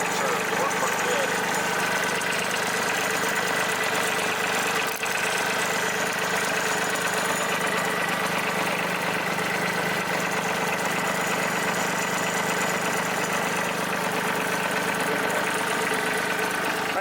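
A small Solis H24 compact tractor engine idles steadily and continuously, a low droning rumble with a slight rhythmic knock, holding close and even throughout.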